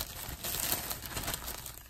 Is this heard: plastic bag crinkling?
yes